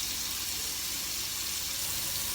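Water running steadily from a tap while washing the face, a continuous close hiss and splash with no pauses.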